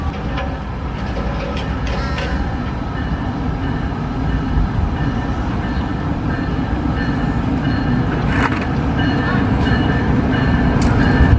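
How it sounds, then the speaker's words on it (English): An NJ Transit train bound for New York from Trenton rolls past at Princeton Junction, a steady loud rumble of wheels on rails that builds slightly toward the end, with no one talking. "we have an NJT on its way to New York from Trenton."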